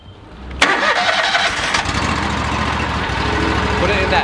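A zero turn mower's engine turns over and fires with a sharp burst, then settles into a loud, steady running rumble close by.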